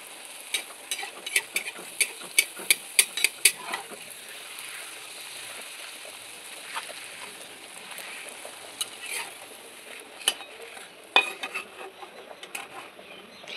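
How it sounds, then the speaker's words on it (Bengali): Puris, a dough-based flatbread, frying in hot oil in a home kitchen, giving a soft continuous sizzle dotted with sharp crackling pops, faint and close, with no talking. "তো আগে পুরিগুলো ভেজে নেব।"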